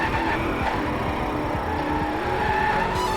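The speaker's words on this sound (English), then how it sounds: "So let's see how good I can still drift in this game." A car drifts through a PlayStation 4 racing game, its tires skidding and squealing continuously over a loud, steady engine roar, with no talk.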